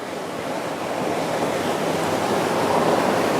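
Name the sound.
Sanlorenzo SL62 motor yacht cruising through waves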